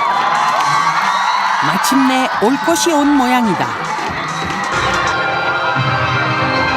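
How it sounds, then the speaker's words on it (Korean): Children cheer and whoop excitedly as a b-boy hip-hop dance stage begins in Korea, loud crowd noise with rising shouts, mixed with a narrator's voice. "이 시간을 고대하던 아이들의 열띤 환호 속에 드디어 무대가 시작되고"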